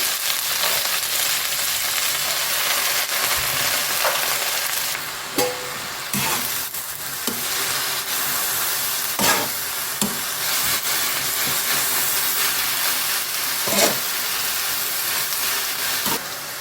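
Onions and a bunch of cleaned amaranth greens fry in a pan on a low stove, giving a continuous sizzle with occasional stirring scrapes and clatters and no voices.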